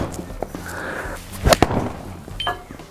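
A golf club strikes a ball with one sharp, loud crack in the middle of an otherwise quiet outdoor stretch with faint background murmurs.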